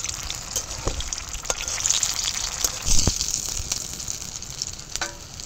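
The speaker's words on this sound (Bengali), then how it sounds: "এবার পুর ভরা পটল ভাজাগুলো ভাজবো।" Stuffed pointed gourds (potol) fry in hot oil in a pan, a steady close sizzle with scattered sharp pops and crackles and a few brief louder spits, with no talking.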